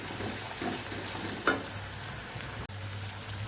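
Spices sauté in hot oil for pahadi aloo, giving a steady, close frying hiss with a few faint pops and a brief utensil knock, no voices.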